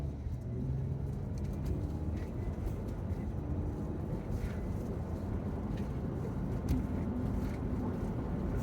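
A 2016 Chrysler Town and Country minivan under repair for a P0740 fault drives on a test run, heard from the cabin as a steady, muffled low road and engine rumble with faint knocks and rattles.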